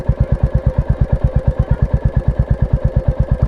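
A 2026 Royal Enfield Bullet 350 single-cylinder engine idles up close with a steady, loud thumping beat, about eight even pulses per second, low and rhythmic with no voices.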